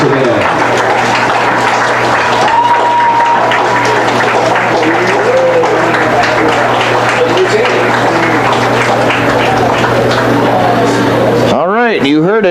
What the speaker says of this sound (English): Let's have a round of applause for these 2 teams.